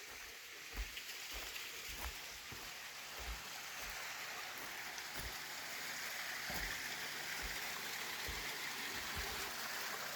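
A stream flows somewhere below a forest hiking trail, producing a steady, even wash of rushing water with no breaks and no voices.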